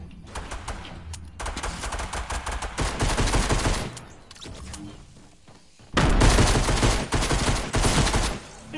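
Pistol and other gunfire in a video game rattles in dense, loud bursts of rapid shots, pausing briefly in the middle before a heavier volley resumes, with no talking over it.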